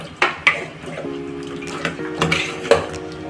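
A spoon scrapes and clinks against a metal pot while Telangana-style mutton gravy curry is stirred. There are several sharp knocks and scrapes, loud and close, with no voices.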